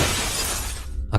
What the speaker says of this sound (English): a crashing noise, like that of shattering glass, erupted in the living room